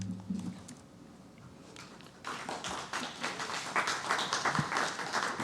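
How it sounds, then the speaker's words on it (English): Applause breaks out partway through a city council meeting in St. Cloud, Florida: a scattered patter of hand claps from the audience that swells and keeps going, heard up close in the room. "If y'all would hold your applause"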